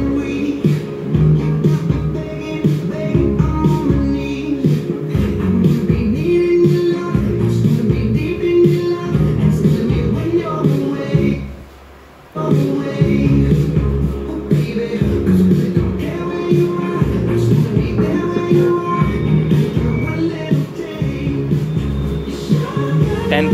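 Music plays loud and full from a double-din Android stereo in an old Hyundai Santro, with heavy bass thumping steadily throughout and one brief dip near the middle before it resumes.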